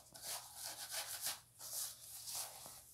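A bike inner tube, folded on the ground, being scrubbed with an abrasive scraper for patching, producing soft close rasping strokes in an uneven back-and-forth rhythm.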